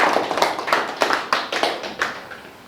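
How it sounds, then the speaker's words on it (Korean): A small audience at an academic lecture gathering claps briefly, with a dozen or so distinct, close hand claps in a loose rhythm that gradually thins out. "다 같이 박수"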